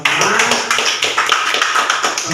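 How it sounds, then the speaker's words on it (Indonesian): Audience applause at a positive school culture session at SMP N 1 Sitellu Tali Urang, a fairly loud, dense patter of many hands clapping that stays steady for a couple of seconds. "Bapak dan Ibu berikan dulu tepuk tangan untuk kita semua"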